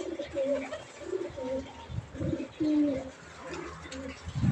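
Pigeons kept in a netted enclosure coo in soft, low, repeated rolling calls, close by and overlapping, with faint background noise.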